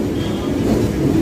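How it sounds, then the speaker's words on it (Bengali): Train running on rails during a journey beside the Ganges near Princep Ghat, Kolkata, giving a steady, close rolling rumble with no voices. "তাও ট্রেনে জার্নির মাধ্যমে"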